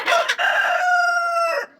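A single rooster crows nearby, a loud drawn-out cry that rises then holds and fades over about two seconds.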